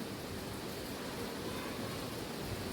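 Fenugreek milk with jaggery syrup boiling in a pot on the stove, a soft, even bubbling hiss that stays faint and unchanged.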